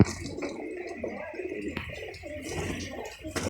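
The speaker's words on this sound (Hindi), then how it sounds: "और एक कबूतर ये भी बैठा हुआ है अंदर, ये देखो बच्चे पाल रहा है" A pigeon sits inside a nest box raising chicks while other pigeons coo around it in a loft; soft repeated cooing and occasional chirps blend with light rustling and a few sharp knocks.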